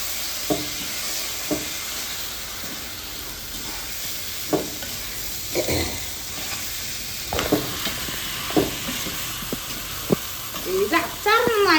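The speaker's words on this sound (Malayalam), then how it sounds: "ഇത് കഴിഞ്ഞ് ഇളക്കി അങ്ങോട്ട് യോജിപ്പിക്കാം" A spoon scrapes and stirs through a pan of homemade Kerala-style mango pickle, giving repeated close scraping strokes over a steady sizzle, with a brief bubbling burst near the end.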